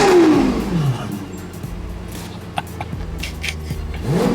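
Lexus LFA supercar with a warm engine, revved while stationary: a sharp rising rev at the start that falls away, a low idle, then another climb at the end, loud and close with no talk.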